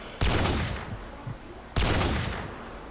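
Two loud bursts of game gunfire aimed at a vehicle on a Call of Duty Derail map, each a sharp heavy volley that tails off, spaced about a second and a half apart.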